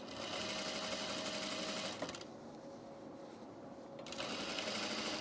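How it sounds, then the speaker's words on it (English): A sewing machine stitches a row of fabric for an Ascot tunic, its motor humming steadily and close, pausing for about two seconds in the middle and then running again, with no talking. "Let's do another row of stitching right where we plan on folding this."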